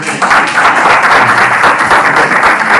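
A church congregation applauds loudly and steadily, a dense roar of clapping with no break.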